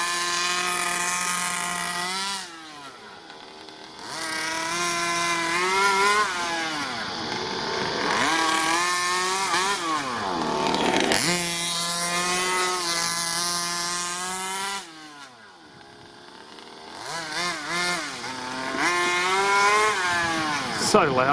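A Rovan Q-Baja Shorty 1/5-scale RC car's 29cc two-stroke gas engine runs close and loud, its buzzing pitch climbing and falling through repeated revs, with short dips to idle.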